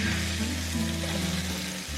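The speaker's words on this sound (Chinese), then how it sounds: "我们先把这一个猪颈肉放上去，保持中小火煎哈" Pork neck meat fries in hot cooking oil over medium-low heat, a steady close sizzle and crackle that runs unbroken for a couple of seconds.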